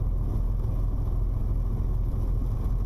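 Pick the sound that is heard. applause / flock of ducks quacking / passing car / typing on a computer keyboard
passing car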